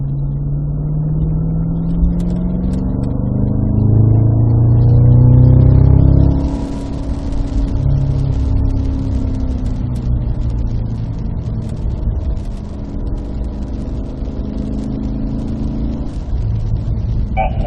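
A Cadillac CT5-V Blackwing with a six-speed manual pulls on a wet race track at Spring Mountain, Pahrump, its engine note rising and swelling loud and close, then settling into a steady drone. An instructor talks over it throughout.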